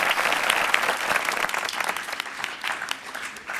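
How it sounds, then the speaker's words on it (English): An audience applauds a guest at a business brand-building talk: dense, steady clapping from a sizeable crowd, continuous and fairly loud for the whole stretch with no voices over it. "Round of applause for Chloe Walsh, everybody."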